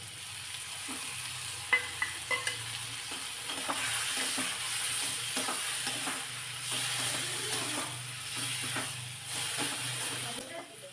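Ground spice paste sizzling and frying in hot oil in a pan with tomato, stirred steadily with soft scraping strokes and a few sharp clinks near the start, a continuous moderate hiss beneath faint background voice.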